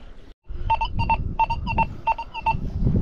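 Metal detector in a field while digging for coins in a medieval Polish village, giving a series of clean repeated beeping tones in pairs over rustling and handling noise.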